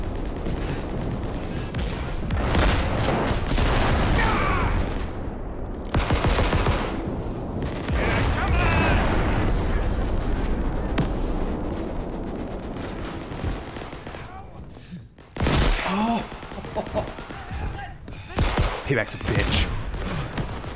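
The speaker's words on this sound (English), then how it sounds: "Stop shooting at me." Dense gunfire from the World War II shooter game Day of Infamy, bursts of rifle and machine-gun fire rattling almost continuously with brief lulls, loud and close, with distant shots mixed in.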